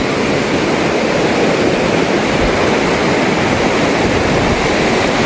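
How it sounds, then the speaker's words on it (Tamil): Fast floodwater pours along after a cyclone in Mullaitivu, a loud, continuous roaring rush close by that holds steady throughout with no voices. "எவ்வளோ வேகமாக போகுதுன்னு பாருங்க தண்ணி."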